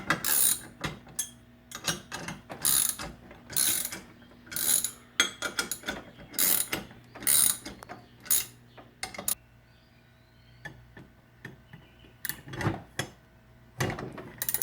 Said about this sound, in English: so she's tightening down the sprocket right now.